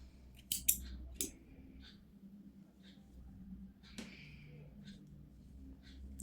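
Scissors snip through crochet yarn while finishing a left-handed twisted-edge doily: a few quick, crisp snips in close succession near the start, then a single clear cut a few seconds later, heard up close over a quiet room.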